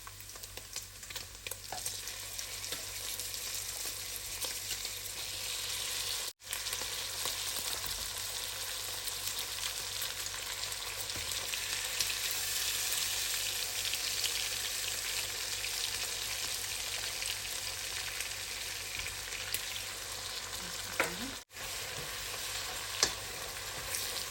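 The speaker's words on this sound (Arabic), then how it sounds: "هسه راح ابدي اضيف الشاورما او القص العراقي" Iraqi shawarma (gus) meat fries in a pan with a steady, moderately quiet sizzle that runs throughout, broken by two brief near-silent gaps.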